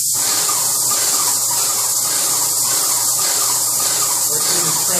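Airless sprayer hissing steadily as paint goes onto primed house trim in fast passes, a continuous close, loud spray with faint pulsing, no talk.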